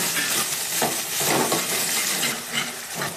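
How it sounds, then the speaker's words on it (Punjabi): Onions and finely chopped ginger fry in a pan with a steady sizzle, broken by a few louder bursts of stirring and scraping, heard close and without any voice. "ਨਾਲ ਹੀ ਆਪਾਂ ਪਿਆਜ਼ ਅਤੇ ਬਰੀਕ ਕੱਟਿਆ ਹੋਇਆ ਅਦਰਕ ਪਾ ਦਾਂਗੇ"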